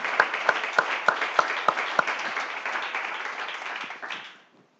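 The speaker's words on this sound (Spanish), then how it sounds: "Dele un aplauso al Señor, hermano." A church congregation applauds together, starting with a few rhythmic group claps that merge into dense, sustained clapping before fading out near the end.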